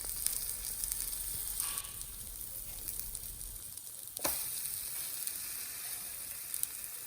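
A drumstick flower and capsicum egg omelet sizzles in a pan over a medium flame, a steady, fairly quiet frying hiss with one brief sharp scrape midway.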